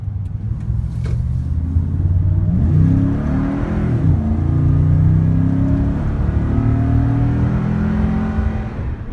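Toyota Tundra pickup engine accelerating hard in tow/haul mode, a loud close rumble climbing in pitch through gear shifts and holding a strong steady roar with no talk.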